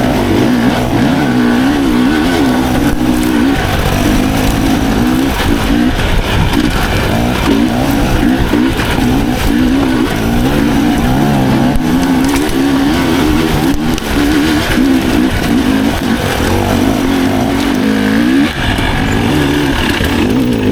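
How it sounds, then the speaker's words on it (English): A dirt bike at a riding-training session in Arizona accelerating hard as the front wheel lifts: a loud, close engine that roars continuously and rises and falls in revs, with no talking. "Like you gave it gas, front comes up. Maintain gas,"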